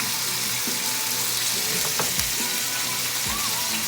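Shrimp and king crab sizzle steadily in a hot pan for paella, a constant loud frying crackle with occasional stirring clinks and no talking.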